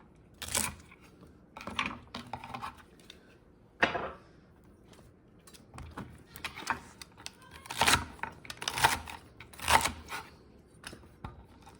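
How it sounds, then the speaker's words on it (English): Knife chopping celery on a cutting board while preparing a seven-seas style seafood soup, a series of crisp irregular cuts in small bursts, close and fairly quiet, with no talking. "my celery, I'm going to cut it just like this."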